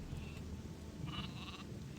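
Sheep bleating in the Gothic II video game, a couple of short nasal bleats over a steady low background hum of game ambience, moderately close with no speech.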